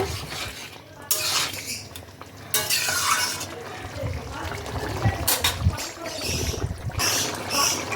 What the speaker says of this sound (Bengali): ঘিটা দিয়ে আবার এটাকে এক থেকে দেড় মিনিট মতো নাড়াচাড়া করে নেব